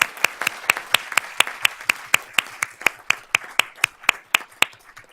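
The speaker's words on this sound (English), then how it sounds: "Let's give them a round of applause." Applause at a school district board of trustees meeting, heard as sparse, evenly spaced individual claps, roughly four per second, fairly close and crisp, with no talking over them.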